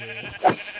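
A single short sheep bleat from the Minecraft video game, brief and fairly close after a faint tonal sound.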